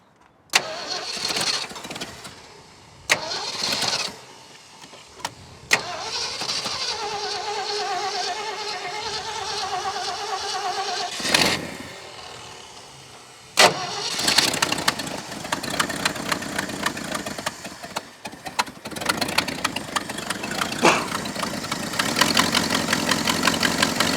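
An old Ford truck, abandoned for 39 years, cranks in short bursts, catches and runs unevenly with rough revs, then stalls and restarts, sounding loud and close with brief gaps between attempts.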